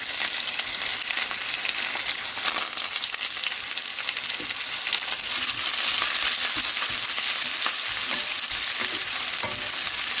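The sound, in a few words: small red onions being stirred in a pan for lemon pickle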